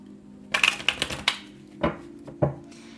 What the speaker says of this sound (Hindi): चलिए शफल कर लेते हैं।